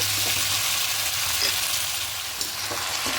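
Potatoes frying in hot oil for a rohu fish curry with taro stems, a dense continuous sizzle with occasional stirring scrapes, close and loud throughout with no speech.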